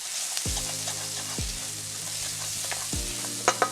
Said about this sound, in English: Keep it moving guys, you don't want to burn your garlic.